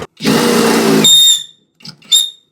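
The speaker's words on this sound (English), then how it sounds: "let me drill these" A power drill bores holes in a steel brake bracket for a 1941 Mercury custom brake build, one long loud whine that rises as the bit breaks through, then two short bursts after a pause.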